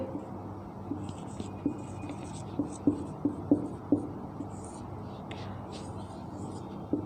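Chalk or marker taps and scratches on a board during a Hindi political science lecture, a series of soft ticks and strokes under the teacher's steady speech.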